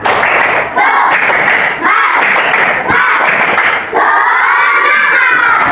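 A school class performs a rhythmic spirit clap, loud bursts of group clapping mixed with children's chanting and shouts, in repeated phrases broken by short pauses.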